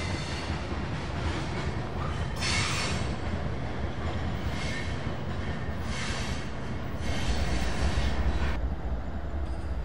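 A CSX freight train hauling grain loads rolls past on the Gainesville Midland Sub, a loud, steady rumble of wheels and railcars lasting throughout, with faint squeals and clicking joints and no voices.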